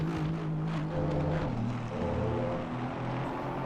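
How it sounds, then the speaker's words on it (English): Race car engine in a GT4 sim racing game at Spa, droning steadily with shifting pitch bands as gears change to hold a sliding car, loud and continuous with no talk. "Listen to the gears of Chris."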